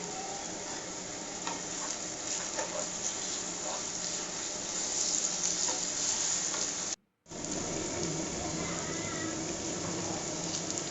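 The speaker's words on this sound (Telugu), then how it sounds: "ఆనియన్స్ కొంతసేపు మగ్గిన తర్వాత అల్లం వెల్లుల్లి పేస్ట్ వేసి కొంతసేపు మగ్గనివ్వాలి" Onions with ginger garlic paste frying in a pan for a capsicum masala curry, a dense, steady close sizzle lasting throughout, broken by a brief silent gap near the middle.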